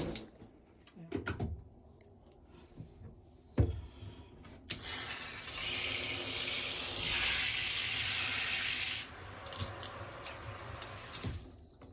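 Water sprays steadily from a newly delivered shower during a test for about four seconds, with scattered clanks and handling noises before it starts and after it stops.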